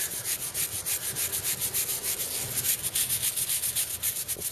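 Stiff brush scrubbing historic limestone on a restoration test panel, a close, steady rhythmic scratching rasp of repeated strokes with no talk.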